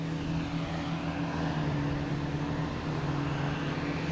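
A United Airlines airliner arrives from San Francisco on runway 27 at Boston Logan, giving a steady, even jet roar with a low hum that holds at a constant level from a moderate distance.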